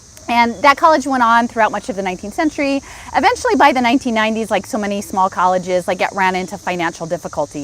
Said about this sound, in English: there's a lot of cicada noise going on.